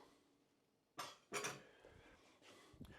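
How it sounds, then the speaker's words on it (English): Metal Yorkshire pudding tins clatter and clink as they are set into a Ninja AF500 air fryer basket in a home kitchen, two close, bright metallic knocks around the middle followed by softer rattles and a final small clink. "we're now going to put these"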